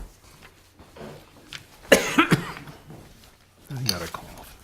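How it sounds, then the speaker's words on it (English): A couple of sharp, harsh coughs burst out close by, with quieter rustling and breathy sounds before and after. "I got a cough."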